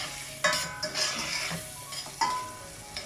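Diced onions seasoned with fine salt are stirred in a pan for a prawn curry, giving a soft sizzle broken by several distinct scrapes and clicks of the spoon against the pan, close and fairly quiet.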